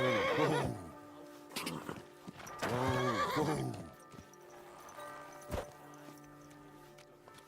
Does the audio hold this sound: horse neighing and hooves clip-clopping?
yes